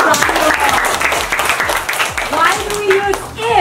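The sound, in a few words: classroom applause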